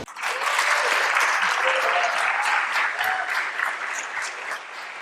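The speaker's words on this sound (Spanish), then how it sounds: "solicito que recibamos con un merecido y fuerte aplauso" Sustained audience applause at a lecture on pioneers of Japanese animation, dense and steady for the whole span, fairly loud and close, with a few faint voices and whistles mixed in.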